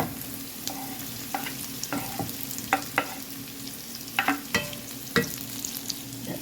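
Spam frying and stirred in a pan with sautéed garlic and onion for fried rice, a steady close sizzle broken by sharp scraping and clacking of the spatula at irregular intervals.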